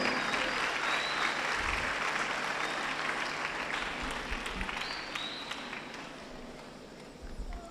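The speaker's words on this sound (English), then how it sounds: "Clap for her." A school audience claps steadily for a student called up to the stage during a career talk, a dense and sustained applause that slowly tapers off over several seconds.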